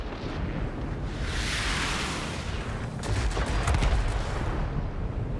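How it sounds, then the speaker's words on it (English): Aircraft cannon fire and an explosion in World of Warplanes: a broad roaring blast swells and fades, then a rapid stutter of cannon bursts rattles over continuous engine rumble, loud and close with no talking. "I deleted it with the cannon."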